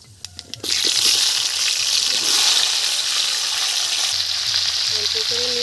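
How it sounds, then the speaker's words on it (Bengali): Black cumin seeds dropped into hot oil in a kadai for a Bengali fish curry burst into a loud, close sizzle after a few light clinks, holding steady to the end, with a faint clatter near the close. "তেল গরম হয়ে গেছে কালো জিরে ফোড়ন দিয়ে দিচ্ছি"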